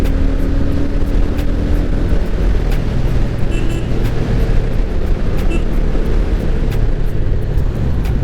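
A 2025 TVS Ronin 225 motorcycle on the road with a gear-shifting sensor fault, heard as a constant loud engine drone and heavy wind rumble with faint clicks, no clear shift audible.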